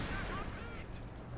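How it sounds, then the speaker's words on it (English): Armoured car firing its 75mm gun and coaxial machine gun in Company of Heroes 2, quick booming shots with rattling fire amid battle noise, faint and somewhat distant. "the AC, which opens up with its 75mm gun and correction machine gun"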